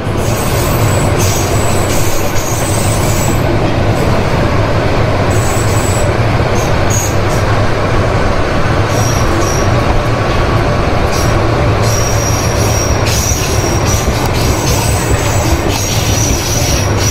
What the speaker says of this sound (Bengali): রাইট নাও আমাদের ট্রেন প্রবেশ করতেছে মেলান্দহ বাজার রেলওয়ে স্টেশনে